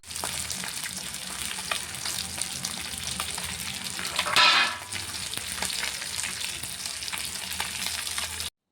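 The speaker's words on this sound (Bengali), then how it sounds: "তার জন্য তেল ভালো মতন গরম হওয়ার পরই মাছ দিতে হয়" Fish fry in hot oil in a pan with a steady, close crackling sizzle throughout, briefly swelling into a louder hiss midway before settling back.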